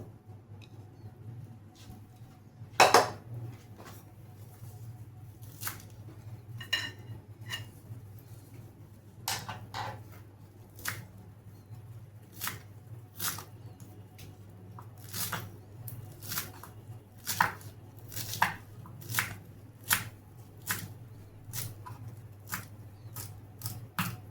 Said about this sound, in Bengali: এরপরে ফ্রেশ কোরিয়েন্ডারটা আমি একটুখানি কেটে নেবো